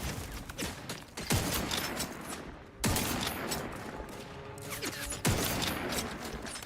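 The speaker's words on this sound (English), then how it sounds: "Should you just stop throwing fucking grenades up here?" Explosions in a fast-paced video game with grenades being thrown, several sharp bursts at irregular intervals over a dense continuous rumble of gunfire-like noise, loud and close, with no talking.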